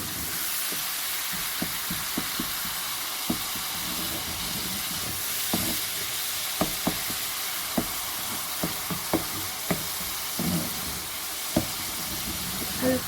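Masala for chicken Afghani malai karahi fries steadily on low-to-medium heat, giving a continuous bed of sizzling hiss with scattered sharp pops and scraping stir clicks throughout, fairly close and without any talk.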